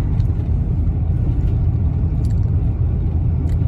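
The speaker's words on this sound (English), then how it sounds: "Taking a little drive in the Expedition." A 1998–2005 Ford Expedition fitted with a cold air intake and an SCT X4 tuner is on the move, its engine and road noise forming a steady, loud, continuous low rumble from inside the cabin.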